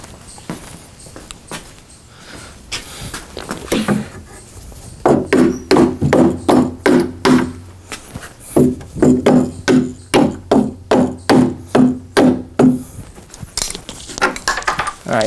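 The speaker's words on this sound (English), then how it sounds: "Get my hammer." A hammer strikes an old Mortal Kombat II arcade cabinet while it is being stripped for restoration. Two bursts of loud, evenly spaced wooden knocks land close by, with a short pause between the runs.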